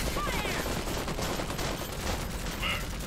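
Rapid gunfire rattles through a chaotic Iron Harvest battle, with dense overlapping bursts of shots under a constant roar of battlefield noise and no clear pauses.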